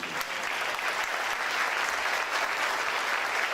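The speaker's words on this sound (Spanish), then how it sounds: "le dan un fuerte aplauso a Jesucristo" A large audience at a pastors' conference applauds in a continuous wash of clapping that holds steady and fairly loud, with no one speaking over it.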